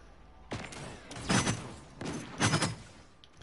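Sniper rifle fire in a video game: several sharp, loud shots spaced about a second apart, each with a short echoing tail, close and isolated with no talk over them.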